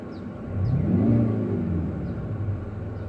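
A Kia Optima GT 2.0 T-GDI engine, heard from inside the car, revs up and eases back down over a steady low rumble, with the whine swelling once and then settling.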